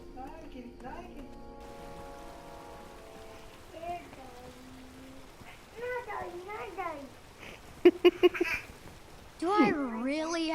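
A cat meows several times in the King's Quest video game, with rising and falling mewing calls mixed among other in-game voices and effects.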